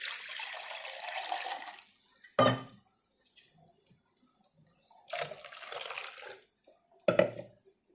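Water poured into a steel pot of blended tomatoes for South Indian tomato rasam: a sustained splashing pour, then short clanks and a second pour with a final clatter, close and fairly quiet with no talking.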